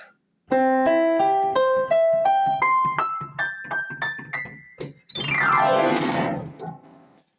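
Sampled Steinway grand piano from a 1984 Kurzweil K250 plays a rising run of separate notes, then a sweeping glissando-like flourish, loud and close with no talk.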